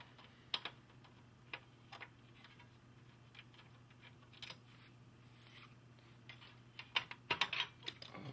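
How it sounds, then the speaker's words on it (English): Small plastic clicks and snaps as dusty keycaps are pried off an old computer keyboard, scattered sharp ticks with a denser burst of clicks near the end over a low steady hum. "Got to pop all these little guys out of here."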